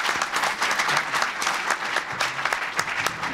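Dense, steady applause fills a room at a community leaders' event with President Reagan, sustained and even throughout with no break.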